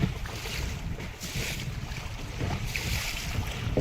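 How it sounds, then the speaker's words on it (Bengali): Storm wind and choppy river waves toss boats in the Sundarbans, a steady loud roar of gusting wind buffeting the microphone over churning, splashing water, continuous throughout with no voices. "আর যখন নদীতে প্রচণ্ড তুফান হয় বড় বড় জাহাজ নৌকার কি অবস্থা হয় দেখুন বন্ধুরা"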